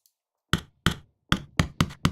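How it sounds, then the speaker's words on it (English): Knock percussion samples from a Spitfire Audio library sound as six sharp, dry raps, the first two spaced apart and the rest quicker, close and clear against silence. "And you've got knocks,"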